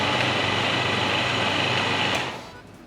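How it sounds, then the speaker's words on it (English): An electric mixer whisks egg whites to soft peaks, a steady loud whirring hum that runs continuously and then winds down and stops near the end. "I'm going to start whisking up those egg whites. Just till soft peaks."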